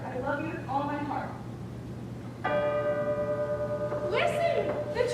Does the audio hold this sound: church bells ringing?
yes